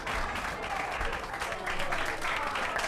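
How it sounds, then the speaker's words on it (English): A steady round of clapping fills the room for a few seconds, dense and continuous at an even level with no talk over it. "let's give him his round of applause"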